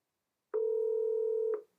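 One steady electronic ringback tone plays for about a second on a test call from AWS to a site extension, clear and alone in otherwise silent audio.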